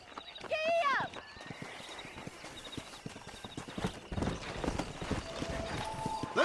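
Horse hooves clip-clopping in rhythmic gallop while riding in the video game Red Dead Redemption, with a brief whinny at the start and someone talking over the hoofbeats.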